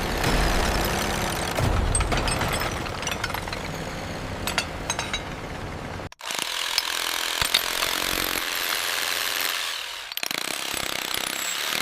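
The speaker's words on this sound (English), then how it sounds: "Large rotary drilling rigs operated on specially stabilized platforms." Large rotary drilling rigs on stabilized platforms bore anchor holes into solid rock for a 450 m glass skywalk in China, giving a loud, continuous grinding and rattling roar with metallic clinks and a brief break midway.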